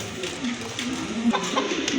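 Soft pigeon cooing drifts in low tones over a steady background murmur, with a few brief higher calls near the end.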